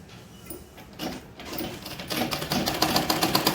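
A sewing machine stitches a fall onto the edge of a saree with small stitches, a rapid rhythmic mechanical clatter that starts soft and grows louder and faster, close by and alone.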